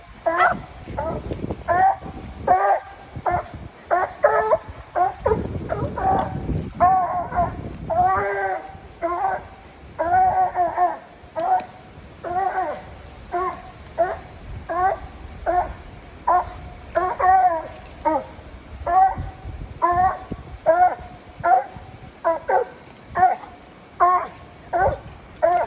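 A coonhound bays and barks at a tree during a windy nighttime raccoon hunt. The loud, close barks repeat in steady bursts for about twenty-five seconds, with occasional voices talking nearby.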